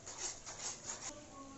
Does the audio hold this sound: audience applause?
no